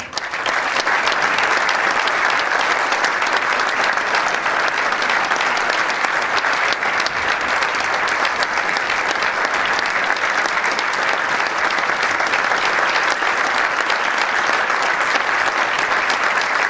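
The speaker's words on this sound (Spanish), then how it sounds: "Un fortísimo aplauso a banda de la LIN y gracias por estar aquí" An audience applauds a band at an anniversary concert with dense, sustained clapping that fills the whole stretch, steady and loud with no pauses.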